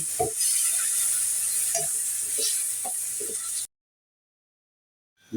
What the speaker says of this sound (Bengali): আদা রসুনটা ভালো করে কষিয়ে নেব